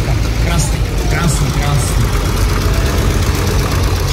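Vintage tractor engine idling at a tractor show, a loud, steady low rumble running continuously and close, with people talking over it.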